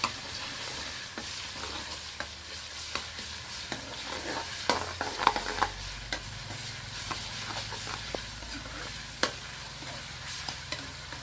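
Meat and ground chili stir-fried in a pan for a Shan-style khao soi broth, a steady close sizzle with frequent scraping stirs and clinks of the utensil against the pan, no talking.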